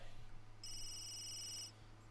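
A phone rings once in The Sims 3 video game, a steady electronic trill of about a second over a low constant hum, with no voices.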